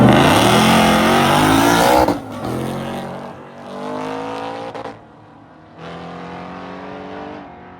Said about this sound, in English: this Mustang coming up. I remember him from last year. This thing was really loud.